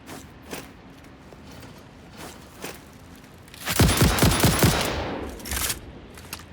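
Guns fire in Satisfactory: scattered sharp reports, then a loud rapid burst of automatic fire lasting about a second, trailing off into a few final shots.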